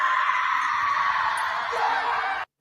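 A sustained, piercing scream from a character in an episode of the horror series FROM, loud and unbroken for over two seconds before cutting off abruptly.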